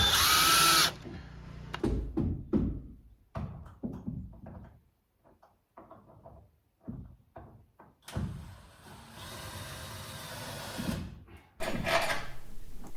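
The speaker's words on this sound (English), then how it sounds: "By installing in all the lag bolts, it now secures all of the trusses to the actual framing" Power driver sinking lag bolts into roof trusses on a house under construction, with a short whine, clunks and knocks from handling, then longer sustained driving runs near the end.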